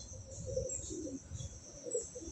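Pigeons at a loft coo in soft, low, throaty murmurs, a pair of birds nearby, the sound faint against a steady background hiss.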